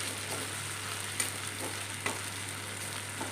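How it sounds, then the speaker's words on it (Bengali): Spices sizzle in hot oil in a pan with a steady, close frying hiss, broken by a few soft clicks of stirring, and no voices. "আমি কিন্তু খুব সুন্দর করে এটাকে আগে ভেজে নিচ্ছি"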